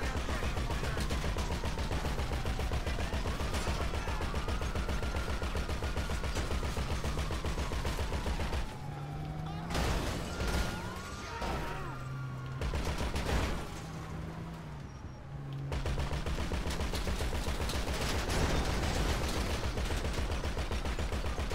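Rapid bursts of automatic gunfire from Grand Theft Auto 5 rattle on almost without pause, with a brief lull in the middle while other game sounds carry through.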